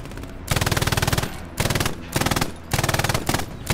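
An MG42 machine gun fires in long rapid bursts in Hell Let Loose, loud and close, with several sustained strings of shots broken by short pauses.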